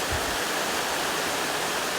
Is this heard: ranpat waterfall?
yes